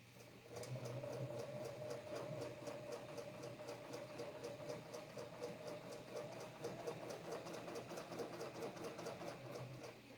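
A quilting machine stitches steadily along a coils or ribbon candy template, a fast, even mechanical hum with rapid regular ticking, continuous and fairly quiet.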